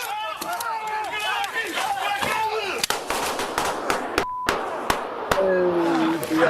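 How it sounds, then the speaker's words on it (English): Sharp bangs and crackling pops of Fourth of July fireworks go off repeatedly under a steady murmur of crowd noise and talking voices. "that's the sound of 4th of July fireworks"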